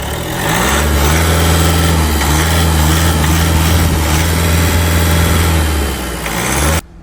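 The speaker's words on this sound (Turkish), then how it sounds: "Aracımızın motor sesi bu şekildedir." A van engine idles steadily up close with a low, even rumble, holding constant for several seconds before cutting off abruptly.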